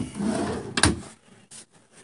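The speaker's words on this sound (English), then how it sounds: "We've got little side drawers." A small side drawer in a Jayco caravan slides and bumps shut with a short clack, followed by a couple of lighter knocks, close and clear.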